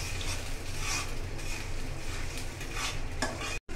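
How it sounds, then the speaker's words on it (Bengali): Ginger-garlic paste frying in a pan for a fish curry with potatoes and flat beans, stirred steadily, giving a continuous close sizzle with scraping strokes and a brief cut near the end. "এখন ভালোভাবে নেড়ে চেড়ে দিব। একটু ভালোভাবে কষিয়ে নিব যেন আদা রসুনের গন্ধটা চলে যায়।"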